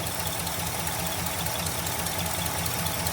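A 1966 Ford Galaxie 500 with a 390 FE V8 and four-barrel carburetor idles steadily, a low, even rumble with a faint rhythmic lope, heard close and alone without talk.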